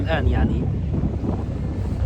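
Strong wind buffets the microphone aboard a ferry in Istanbul, producing a steady low rumbling roar, with someone speaking briefly at the start.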